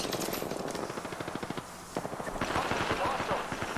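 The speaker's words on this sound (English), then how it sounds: "The enemies are shooting at me." Automatic gunfire in an Apex Legends match, rapid evenly spaced rattling bursts with a brief pause, fairly loud with game sounds around and a voice talking over it.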